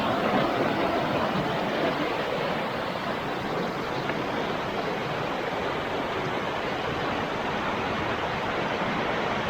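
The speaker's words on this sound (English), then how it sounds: "What a cool creek." A rocky creek in Hayes Creek Canyon, Shawnee National Forest, flows with a steady, close rushing wash that stays even and unbroken throughout, with no voices.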